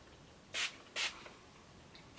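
Hairspray hisses from a can in two short close bursts about half a second apart, followed by the start of a third, over quiet room background.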